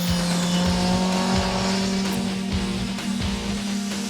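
BMW S1000RR superbike at speed on the Madras Motor Race Track, its loud high-revving inline-four engine droning steadily and shifting pitch through gear changes, close and continuous with no talk.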